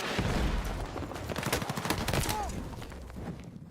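Battlefield 6 gunfire rattles out as dense rapid bursts of shots, loud and close, with distant pops and battle noise continuing throughout.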